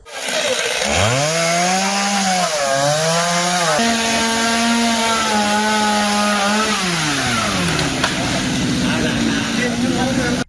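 Chainsaw cutting through a large fallen tree on a hairpin mountain road, cleared by fire and police crews; a loud, close engine whine rising and falling steadily through the whole stretch as the blade bites and eases, with faint voices underneath.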